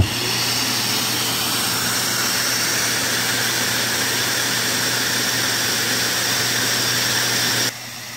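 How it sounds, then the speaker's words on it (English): An electric air pump inflating a Coleman inflatable hot tub gives a steady, loud, close whirring drone with a constant low hum that runs almost throughout, then drops sharply near the end, with no talking. "Now we're just going to go ahead and power up the pump."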